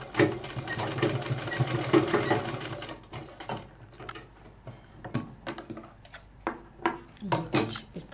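A sewing machine runs in a dense, steady buzz while stitching a metal ring onto a foldable hanging pouch, then breaks into short, separate bursts of stitching with brief pauses between them.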